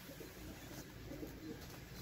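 Young pigeons, white winter-hatched tumbler squabs, coo softly in a loft, with low murmuring calls repeating over a steady background hum and no talk.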